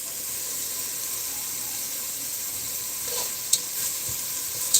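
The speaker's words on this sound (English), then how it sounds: "Try to keep your onions moving too," Onions fry in a pan with a steady gentle sizzle, while a spatula stirs them and clinks against the pan a couple of times near the end, no speech.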